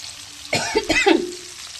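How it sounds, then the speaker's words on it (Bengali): Eggplant slices fry in hot oil in a pan, giving a short burst of sizzling and crackling that rises abruptly, stays fairly loud for under a second with a few sharper pops, then settles back to a low hiss. "এই দেখুন বেগুন ভাজা হচ্ছে"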